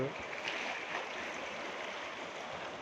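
The swollen Sutlej river running high against the banks by a bridge, a steady, dense rushing wash of water that holds evenly throughout without any voices.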